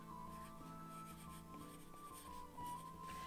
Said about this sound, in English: you can just write really faintly like that